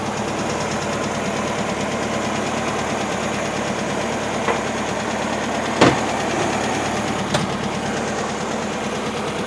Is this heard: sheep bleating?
no